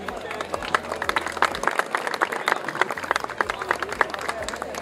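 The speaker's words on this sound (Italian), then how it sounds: "Un grosso applauso anche a loro." A crowd at a live Miss Riviera del Brenta beauty pageant selection claps in a steady patter of many hands, with voices murmuring underneath.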